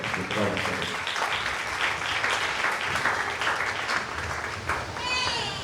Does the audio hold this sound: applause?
yes